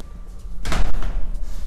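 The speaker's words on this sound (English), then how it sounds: "now we're gonna close this door" An interior door is pushed shut at an art academy, giving a single fairly loud thud with a short rattle partway through, then a brief low room resonance that fades.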